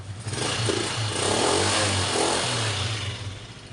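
A noisy Rusi 150 motorcycle engine runs steadily up close, a loud rough mechanical clatter with a low throbbing drone and no talking.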